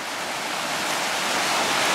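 A flooded creek rushing up and over its banks during a mining season near Juneau, a steady, loud, broadband roar of fast water with no break, close and continuous.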